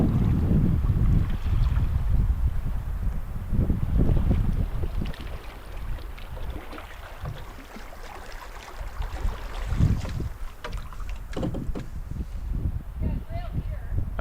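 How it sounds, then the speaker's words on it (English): Wind gusts steadily and loudly across the microphone while paddling a canoe on a wilderness river, with low rumbling buffets and faint water sounds underneath. "Oh, we're going with the wind now."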